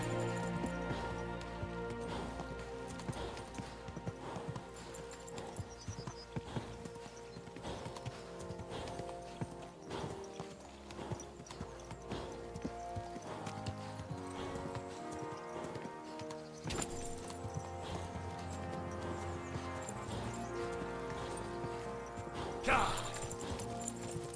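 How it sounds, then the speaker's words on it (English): Horse hooves clip-clop steadily in the medieval video game Kingdom Come: Deliverance, played on Hardcore mode, a rhythmic trot running under game music and a voice talking. "Just a bit further, my steely horse."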